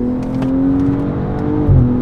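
A 2022 BMW M240i xDrive driven hard at speed: a steady, loud engine drone with a sustained tonal hum, holding close and constant, then a brief deeper surge near the end, with no talking.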